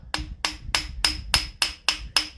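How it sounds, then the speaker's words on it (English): Eight sharp metallic hammer blows in a steady rhythm, close and loud, driving a camshaft back into a motor. "we're going to hit the cam back in with a hammer again"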